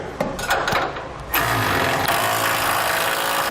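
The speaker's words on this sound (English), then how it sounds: "now we'll tighten down the bolts that hold our rails to the side plate" Gooseneck hitch rails being bolted to a side plate under a 2012 Ram 3500, with a power tool's loud mechanical clatter running continuously and surging sharply partway through.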